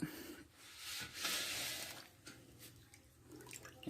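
Running tap water splashes into a sink as raw chicken is rinsed and rubbed by hand, a steady close rush of water with shifting swells and soft rubbing, no talk.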